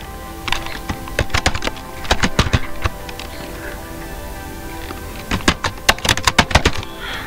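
Close, crisp keystrokes on a computer keyboard come in irregular bursts of rapid clicks, with short pauses between them and no talking.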